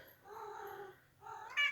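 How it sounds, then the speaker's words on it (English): A female pet cat meowing close by in a quiet room: a soft, drawn-out meow followed by a shorter, higher one. "she's meowing"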